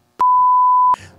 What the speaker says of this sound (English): I'm gonna beep.